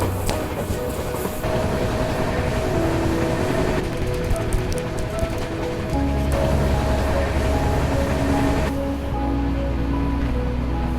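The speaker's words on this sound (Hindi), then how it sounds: "और तो ये रही हमारी कन्याकुमारी वाली ट्रेन, जिससे मैं सिर्फ मदुरई तक जाने वाला हूँ।" A Kanyakumari passenger train at a station platform: a steady rumbling roar of rolling carriages with faint rhythmic clatter and occasional metallic squeals, continuous and fairly loud, with no talk.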